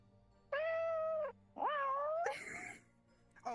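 Someone imitates a cat, giving two drawn-out meows, the second rising and bending in pitch, then breaking into a breathy, noisy laugh-like sound, all close and clear.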